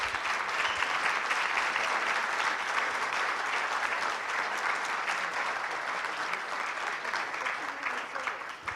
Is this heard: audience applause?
yes